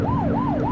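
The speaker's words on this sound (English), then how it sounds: "Let's do toggle lights and siren" A police car siren in the video game The Precinct wails in a loud, steady rising-and-falling cycle, repeating about three times in under a second, close and continuous.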